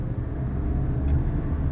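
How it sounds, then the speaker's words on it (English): A car drives through stop-and-go city traffic, its interior engine hum a low, steady rumble with muffled road noise, close and even throughout. "here I am driving, stuck in traffic"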